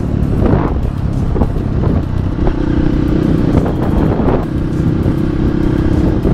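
Kawasaki KLX supermoto with a 240cc bore-up engine runs steadily and loudly, a continuous motor drone with wind buffeting and no talking.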